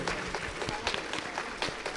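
A crowd at a birthday celebration at a religious court claps in scattered, uneven bursts, heard somewhat distant and subdued rather than close.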